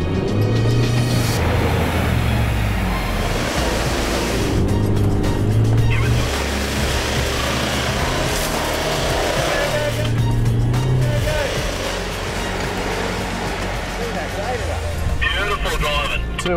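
Isuzu D-Max 4WD grinding up the rocky Stoney Creek track, its engine droning and straining continuously under steady talk, with rumbling and crunching from the tyres over rough ground.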